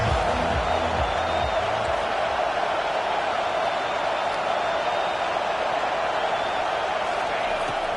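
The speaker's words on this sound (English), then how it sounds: "Decibels rising as the crowd gets behind this defense on 3rd down." Crowd noise rises in a stadium during a Madden football video game on a third-down defensive play, a dense sustained roar with faint whoops, briefly layered under low game sounds at the start.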